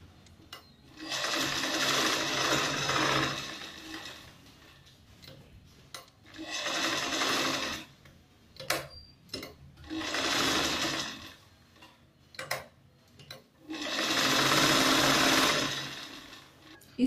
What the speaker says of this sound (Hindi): अब हम ऊपर के कपड़े को मशीन पर कैसे अटैच करते हैं वो देखते हैं।